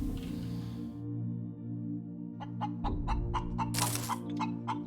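A chicken in the space survival video game Breathedge clucks in a rapid series of short, close clucks over a steady low droning hum, rising to one louder squawk near the end.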